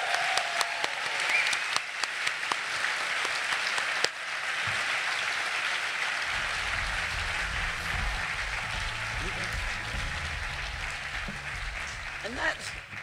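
An award ceremony audience applauds continuously for over ten seconds, a dense, steady wash of clapping heard from within the hall, with a low rumble of voices or movement underneath in the latter half.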